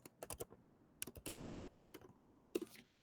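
Fingers type on a computer keyboard close by, quick irregular bursts of key clicks separated by short gaps, quiet and alone.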